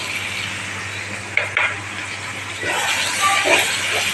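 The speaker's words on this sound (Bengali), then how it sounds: "সবগুলো একটু মিশিয়ে নেব।" Chili powder, cumin and salt being stirred into raw chicken legs in a bowl, with soft scraping and a couple of sharp clinks against the dish over a steady background hiss.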